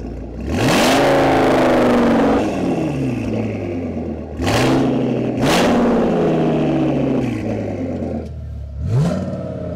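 An Audi RS6 with a 1000 hp V10 revs hard with its exhaust valve open, delivering three loud, close blips that climb and fall away, separated by short pauses and ending in a smaller fourth rev.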